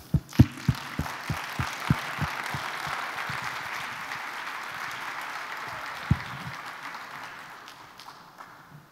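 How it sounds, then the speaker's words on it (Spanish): A plenary audience in Guadalajara welcomes Peru's vice president Marisol Espinoza Cruz with applause: a few loud, sharp claps up front swelling into a broad, sustained ovation that gradually fades toward the end. "a quien recibimos con un fuerte aplauso"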